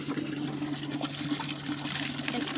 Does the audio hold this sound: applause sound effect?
no